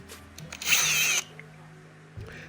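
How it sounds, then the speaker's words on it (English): A power drill with a 3/4 bit bores through an Arrma Felony RC car body, giving a loud, high-pitched whine of a little over half a second against a steady low motor hum. "drill bit."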